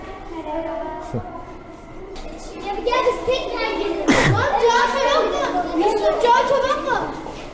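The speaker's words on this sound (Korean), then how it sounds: "애들 소리 때문에" A crowd of children chatters and plays indoors in a museum in Turkey. Overlapping high voices call out and shout close by, with one sharp yell standing out above the steady hubbub.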